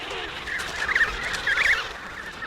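Penguins and penguin chicks calling in a colony, two bursts of trilling, gobbling cries over a steady background hum, fairly close.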